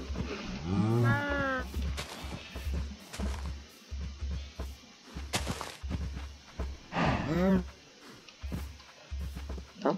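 Cows mooing in the Minecraft video game, several short low calls spread across the clip, with a player talking over them at moments and game sound effects around.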